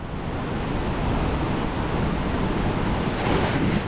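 A waterfall on the Pakse Loop in Laos roars as a dense, constant wash of rushing water, loud and unbroken, with no voices.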